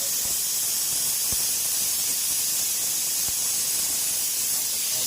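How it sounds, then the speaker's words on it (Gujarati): Pressure cooker releasing steam while cooking chickpeas in a village kitchen; a loud, constant close hiss that holds steady throughout, with a few faint knocks underneath and no voices. "કુકર વગાડી દીધી સીટી આવી ગયા બંધ કરવા માટે"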